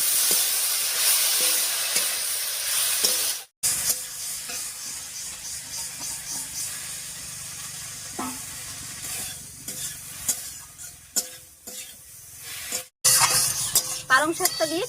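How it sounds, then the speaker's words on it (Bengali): Chopped spinach tossed into softened, salted tomatoes in a frying pan, sizzling and hissing steadily while a utensil scrapes and stirs, with brief pauses and occasional clatters. "এবারে কেটে রাখা পালং শাকটা দিয়ে দিচ্ছি"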